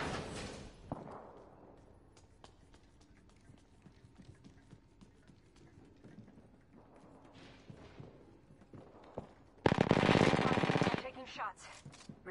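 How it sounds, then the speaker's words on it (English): Gunfire in the video game Anthem, scattered rapid shots and bursts amid combat noise, with a loud dense burst of fire near the end. "Shots fired at me."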